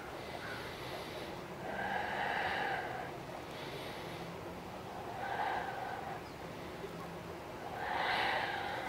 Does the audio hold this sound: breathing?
yes